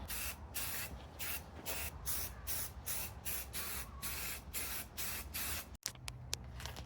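An aerosol can sprays a second coat of zinc paint onto brake calipers from a BMW E46, a close, loud hiss in repeated short bursts, then a brief pause and a final spray.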